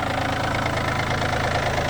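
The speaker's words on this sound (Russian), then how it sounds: "сегодня у нас на обзоре трактор Yanmar AF24" A Yanmar AF24 24-horsepower compact tractor's small diesel engine idles steadily nearby in wind and snow, a constant low, throbbing rumble with no talking.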